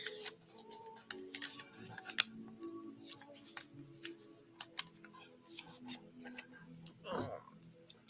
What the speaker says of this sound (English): I'm going to cut these up here real quick.